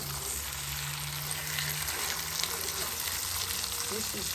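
A steak that falls off the bone sizzles as it starts cooking on a grill, a loud, steady hiss and crackle that runs throughout with faint talk underneath.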